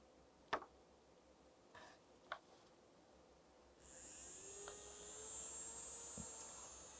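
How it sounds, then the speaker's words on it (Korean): A small electric fan motor in a classroom science experiment powered through clip leads starts up after a few clicks, then spins with a steady whirring hum at close range. "전기를 이렇게 흘려보내 주었더니 모터가 어떻게 되었죠? 빙글빙글 돌아가요."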